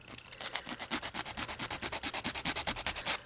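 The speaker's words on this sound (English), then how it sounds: "I'm going to go ahead and file." A nail file scrapes across hard solid builder gel nails in about twenty quick, even back-and-forth strokes, each one a close, bright, rasping rub.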